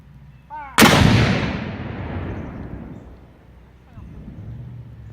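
A single musket fires on command at a heritage festival, a sharp loud blast at about one second that rolls into a long decaying boom, with quiet shuffling before and a faint low hum returning afterward.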